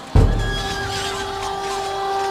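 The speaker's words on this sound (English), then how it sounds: "Until they got a horse." A horse neighs in a single loud whinny that starts abruptly and trails off into a sustained tonal tail, used as a sound effect in a promotional spot.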